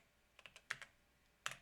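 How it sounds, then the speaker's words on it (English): Keystrokes on a computer keyboard entering an email and password at a command-line login, a few quiet separate taps then a short cluster, close and faint with no talk. "type in your mail and type in your password. Okay, and after that hit on enter."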